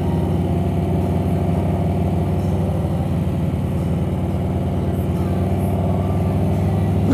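A Harley-Davidson Road Glide motorcycle engine drones steadily and loudly throughout, a continuous low rumble heard while riding through town, with no speech.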